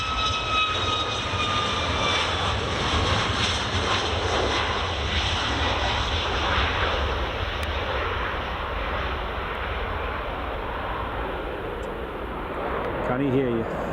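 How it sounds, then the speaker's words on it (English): A Ryanair jet airliner departing runway 24 at Edinburgh Airport, its engines a steady loud roar throughout, with voices talking over it. "next up is Ryanair to depart"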